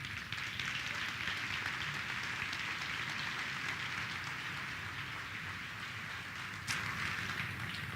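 A church congregation applauds in a soft, continuous patter heard from a distance, an even rain-like crackle of many hands that barely changes over the whole stretch.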